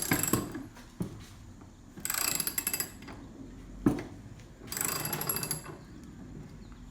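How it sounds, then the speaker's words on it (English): Ratcheting wrench tightening a nut down onto a bolt while building a garage folding table, heard as two bursts of rapid, close clicking with sharp clanks and pauses between strokes. "You're tightening the doohickey down on the bolt."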